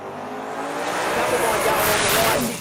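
A sports compact drag car launches off the line at the Garrett Adelaide Jamboree in Australia, its engine roaring loud and rising as the tyres spin and scrabble for grip, with commentary talk over the top.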